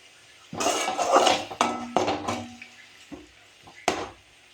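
A spoon scrapes and clatters in a pan while garlic-ginger paste is stirred for Tamil-style pudina rice, giving several close, sharp knocks and scrapes in uneven bursts with quiet gaps between.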